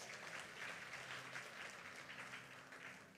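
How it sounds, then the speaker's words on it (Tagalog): Church congregation applauding during a sermon, a steady broad wash of clapping that holds at an even level for its whole length with no voices over it. "Pumalakpak ka mga bless."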